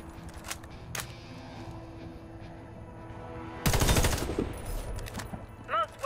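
Gunfire at a target in the Warface video game opens with a loud burst of rapid automatic shots over a steady background hum, followed by a few quieter single shots.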